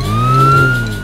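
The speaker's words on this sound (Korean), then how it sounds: "저기를 봐, 경찰차다." Cartoon police car siren, a loud, close electronic wail rising and holding in pitch for about a second, with no voices.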